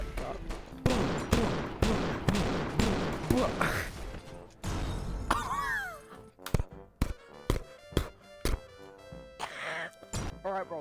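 Shotgun blasts in a first-person video game, a rapid series of heavy booming shots followed by slower, widely spaced blasts, loud and close, with brief game effects between them.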